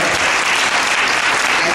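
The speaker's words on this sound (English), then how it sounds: "I appreciate you all applauding for the Wall Street value of the company" Loud, dense audience applause at a keynote speech, many hands clapping together in a steady, full roar that holds for the whole moment with no break.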